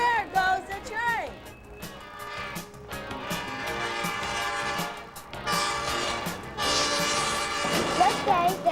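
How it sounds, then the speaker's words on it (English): A train passes with horn blasts and rolling rail noise, moderately loud, mixed with music and voices throughout. "There goes the train."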